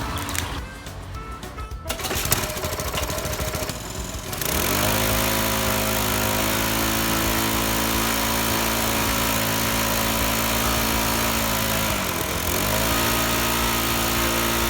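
A small engine, run on old oil, catches after a few seconds of rough rattling cranking and settles into a loud, steady, close running drone with a brief dip in pitch near the end.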